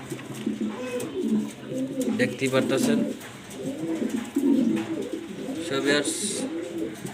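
White Roman gull pigeon giving a string of low burbling coos up close while someone talks over parts of it.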